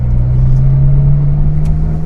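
Fiat Cinquecento 900 engine, cold, running with a steady low idle drone and a strong even hum, loud and close with no talk over it.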